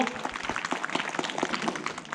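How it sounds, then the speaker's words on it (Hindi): Audience at a school annual function in Janedghat clapping steadily, a dense continuous patter of many hands throughout, with faint voices mixed in. "इसके लिए बहुत एक बार फिर से जोरदार तालियां बजाई जाए"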